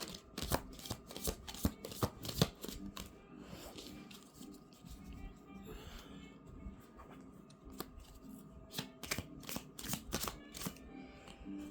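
Tarot cards are shuffled by hand in a quiet room, giving repeated crisp riffling bursts and soft slaps in irregular clusters at close range.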